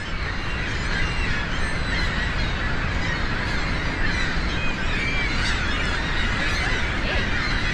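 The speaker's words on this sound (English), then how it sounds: "are there a lot of birds" Many birds at Niagara Falls on the American side, a dense, continuous chorus of honking and squawking calls, resembling geese or gulls, over a steady roar of background noise.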